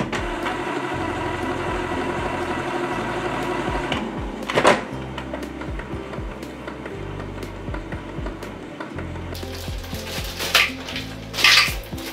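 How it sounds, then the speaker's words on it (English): A Canon PIXMA G-series inkjet printer runs its initial adjustments, humming and whirring with mechanical clunks, rattles and brief sharp clicks, then louder bursts of motor noise near the end. "press OK button on the operational panel to start initial printer adjustments"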